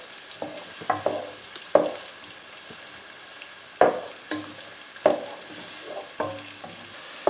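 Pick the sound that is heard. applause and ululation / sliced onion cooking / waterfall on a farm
sliced onion cooking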